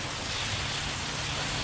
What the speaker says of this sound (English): the rain is coming steady